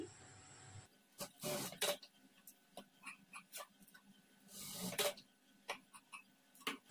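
A sewing machine stitches together two pieces of 2-inch-wide cloth for a lined blouse, running in short, close mechanical bursts separated by brief quiet pauses.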